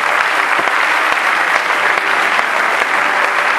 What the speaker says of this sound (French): est-ce qu'on peut acclamer pour ces gens?